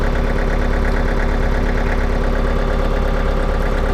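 A tractor engine runs loud and steady at close range with a constant rumbling throb as it is put in gear, with no voices.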